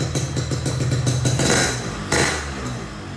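A 2003 Yamaha RX-King motorcycle with a Haltech C17 exhaust running steadily at idle, with a rapid rhythmic chugging and mechanical clatter, close and fairly loud, no voices.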